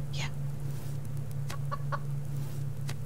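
Chicken clucking in the survival video game Subsistence: a short rising squawk followed by a few quick, close clucks over a steady low hum, with no one speaking.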